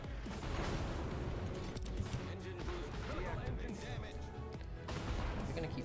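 Naval guns fire in the World of Warships video game: dense bursts of booming salvos and explosions overlap, with battle noise running throughout.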